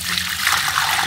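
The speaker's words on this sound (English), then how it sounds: "So we'll just go ahead and take our 2 inches of water" Water poured into a bucket buried in clay soil, a brief steady splashing gush, close and moderately loud.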